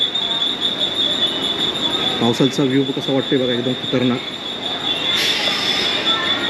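A train rumbles steadily along the rails near Khopoli with a constant high whine, while a person talks over it in the middle.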